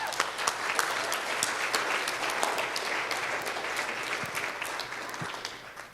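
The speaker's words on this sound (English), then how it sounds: "Can we give them a round of applause?" An indoor audience at a community climate-movement gathering at a school claps steadily for several seconds, a dense even patter of many hands, fairly close.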